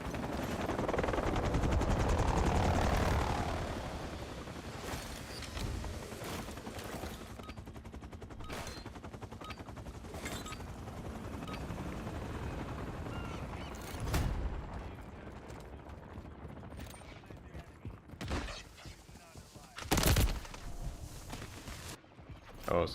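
Rapid SMG gunfire from the video game Deadlock, bursts of shots rattling loudly at first, then scattered sharper volleys over game sounds and ambient noise.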